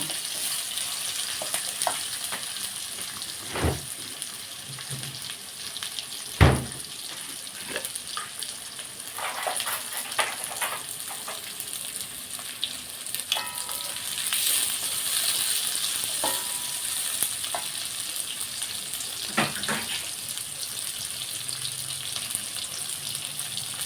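Onions frying in a pan for a liver meat curry, a soft continuous sizzle with scattered clanks and knocks of a utensil, moderately close and fairly quiet throughout.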